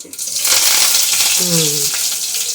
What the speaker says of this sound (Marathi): जिरं मोहरी हिंग टाकते ना तर आवाज येते उडते का